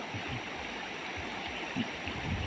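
Floodwater runs off farm fields after heavy rain in Arali Bu, Tuljapur: steady rushing water flows without pause, a soft, even wash of noise with faint low gurgles underneath.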